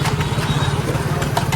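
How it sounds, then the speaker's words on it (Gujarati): A motorcycle engine runs steadily up close. It gives a loud, continuous low throb with a fast rhythmic pulse and no voice over it. "જસ્ટ અભી હાલ બાઇક ઉપર નીકળ્યો છું મેં."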